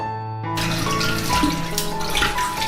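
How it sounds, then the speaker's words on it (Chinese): Tap water runs hard over blanched beef brisket as it is rinsed clean, a steady close splashing stream starting after a brief quiet moment. "牛腩焯烫好了就捞出来清洗干净"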